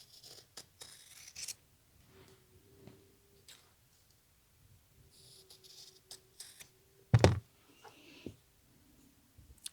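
Scissors snip through denim fabric pieces in short, separate cuts with quiet pauses between them, close and faint, ending in one louder clack.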